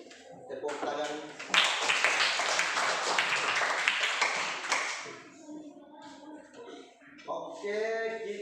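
A classroom full of students clapping during a teaching practice session at an Islamic institute in Ambon, a dense burst of applause lasting several seconds, with talk before and after.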